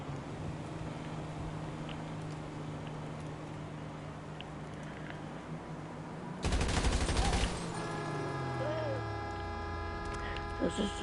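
Gunfire in GTA 5 Online: a sudden burst of rapid shots erupts partway through after a stretch of low background game ambience, followed by ongoing tonal game sounds.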